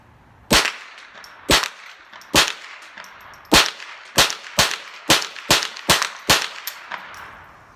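Ruger 10/22 M1 Carbine rifle firing standard velocity .22 rounds at a range, about eleven sharp close reports in an irregular string, spaced roughly half a second to a second apart.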